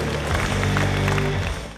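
Audience applause at a Ukrainian bodybuilding and bikini fitness competition, a sustained burst of clapping from a hall full of people, fairly loud, layered over a low musical hum.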